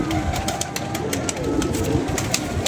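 A pigeon coos in a loft on a very windy day, low soft calls buried under steady wind noise with scattered clicks and rustles.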